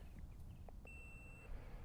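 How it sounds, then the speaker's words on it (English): Calibration beeps from a Capto Golf putting unit: a few short, faint electronic blips followed by one longer steady tone, heard quietly over a low background hum. "It's going to give me about 5 beeps."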